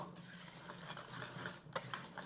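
A whisk stirs a batter of iced sparkling water and 00 flour in a bowl, giving a soft, steady, wet swishing with a few light taps against the side, close up and with no voices.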